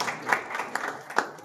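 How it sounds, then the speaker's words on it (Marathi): Audience clapping for a speaker at a rural literary conference's ghazal evening, scattered and fairly light with a few sharper individual claps, moderately distant. "हा तर कदम सरांसाठी एकदा टाळ्या होत आहेत"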